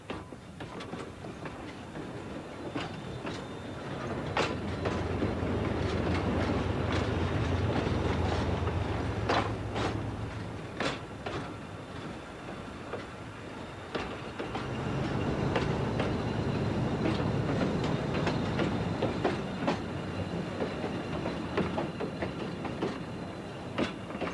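The Cairns Kuranda railway train, hauled by an English Electric locomotive through rainforest tunnels, rumbles steadily with sharp clickety-clack wheel beats on the rails, a sustained low engine drone swelling and easing across the run.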